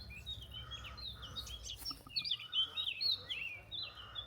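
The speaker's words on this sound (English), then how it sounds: "Birds above me singing." Birds chirp and twitter overhead at a rural property near Ansião and Alvaiázere, a busy stream of high calls over low background rumble.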